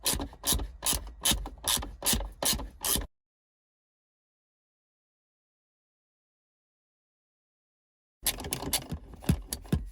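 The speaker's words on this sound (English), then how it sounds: "we've got two 7mm bolts that will be taken out now" Two 7mm bolts being loosened and removed from the centre console of a Rover 25, giving a close run of rapid rasping ratchet clicks, then a long silence before more scraping mechanical rattling returns.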